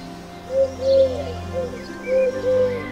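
Soft, low cooing of a pigeon in a tree near a kitchen, repeated in several short hooting phrases over steady background noise, close and moderately clear.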